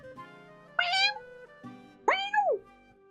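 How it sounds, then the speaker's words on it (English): A cat meows twice, close and fairly soft, each drawn-out cry rising and then falling in pitch, with a low hum underneath. "A heart-wrenching meow comes from the washroom."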